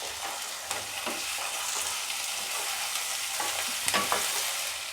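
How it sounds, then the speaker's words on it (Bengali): Chopped carrot, potato and capsicum fry together in a pan with sautéed garlic, making a steady, moderately loud sizzle with occasional sharper crackles and a few light scrapes or clinks. "এবার আমি এই গাজর, আলু, ক্যাপসিকাম কেটে রেখেছি, এগুলো একসাথে সব ঢেলে দিলাম।"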